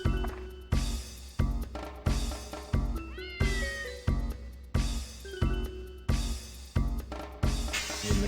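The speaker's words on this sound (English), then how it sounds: "The cat tries to run away and gets zapped into an atma." A cat in the video game Dark Cloud meows repeatedly as it tries to run away. The meows come in a steady rhythmic series, loud and close, over a looping game soundtrack.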